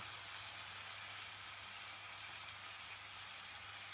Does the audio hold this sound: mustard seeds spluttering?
yes